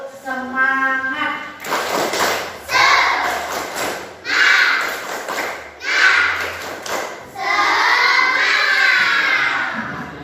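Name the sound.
children doing a 'tepuk semangat' clapping chant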